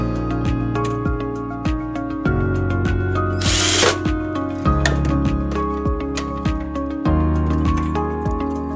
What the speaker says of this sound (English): Insert the lock cylinder fixing screw from the side of the lock body. Pass it through the lock cylinder and tighten it.